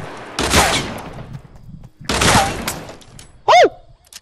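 Two sharp, loud gunshot blasts in Fortnite, a couple of seconds apart, followed by a brief electronic chirp.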